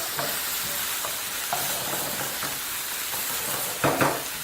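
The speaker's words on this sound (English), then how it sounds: "Remember, we're cooking it at high heat." Minced meat for spaghetti bolognese fries over high heat in a pan, sending up a loud, constant sizzle close by, broken by a few stirring scrapes and a louder shuffle near the end.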